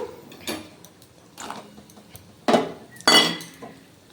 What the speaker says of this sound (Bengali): নারকেল কুচিটা দিয়ে নেড়ে চেড়ে ভালোভাবে মিশিয়ে নিচ্ছে